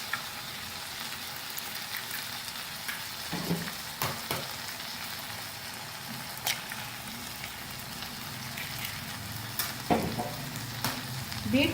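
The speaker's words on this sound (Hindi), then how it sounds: "अब अंडे भी साथ ही शामिल कर देंगे। एक एक करके अंडा शामिल करते जाएंगे।" Eggs are cracked one at a time into a pan of frying onions and spices for tawa egg bhurji, over a steady close sizzle with a few brief taps and clicks.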